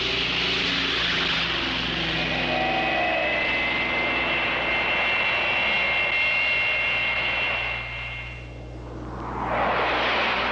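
A US Air Force jet roars past during the war in South Vietnam, a loud sustained engine whine and rush that holds steady, dips briefly near the end, then swells again.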